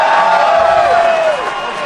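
A live concert audience cheers and shouts in a dense, continuous roar, with one rising-and-falling whoop standing out above the crowd noise.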